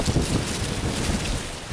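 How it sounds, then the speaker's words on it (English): Wind gusts across an allotment in August, buffeting the microphone with a close, rumbling roar that swells and dips for under two seconds. "It's very windy today."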